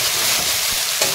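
Leaves fry in hot oil in a pan with a dense, steady sizzle, close and loud throughout, and faint scraping from stirring comes through.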